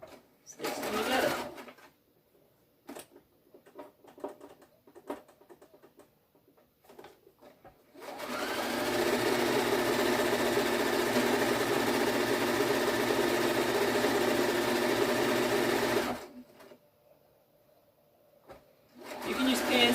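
A sewing machine stitches quilt pieces together with a quarter-inch seam, running in one long steady burst of about eight seconds, close and loud, with brief handling noises before and after.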